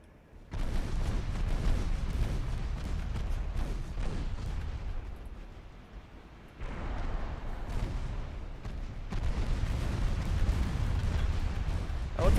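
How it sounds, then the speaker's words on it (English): Heavy cruiser guns in the Ultimate Admiral Dreadnoughts naval battle game fire large shells, a dense rumbling barrage of deep booms rolling almost continuously, dipping briefly midway before another loud burst of salvos. "Those are very large shells."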